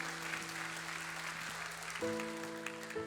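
A church congregation claps together over sustained keyboard chords that shift partway through, a steady, even wash of applause lasting about three seconds.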